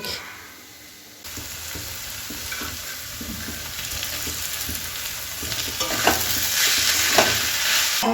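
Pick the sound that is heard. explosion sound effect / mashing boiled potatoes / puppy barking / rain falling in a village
mashing boiled potatoes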